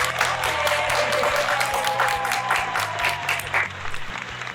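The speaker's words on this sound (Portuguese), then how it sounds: "Vamos aplaudir!" At a hospital anniversary event, an audience bursts into loud, sustained applause marking forty years of a paediatric intensive care unit. The clapping is dense and continuous, with a faint crowd murmur underneath.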